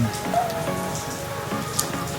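Steady rain patters on a surface nearby on Daku Island, Siargao, a constant soft hiss with scattered distinct drops.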